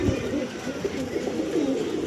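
Low, rolling coos from Andhra Star Kalanka pigeons at a household pigeon sale fill the moment steadily, nearby and unbroken, with no voices on top.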